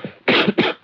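A man in a 1970s Hindi film coughs twice, harsh and close, two loud bursts a moment apart with a faint breath before them.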